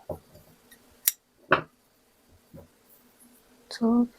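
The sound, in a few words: scissors cutting the tail yarn of a knitted vest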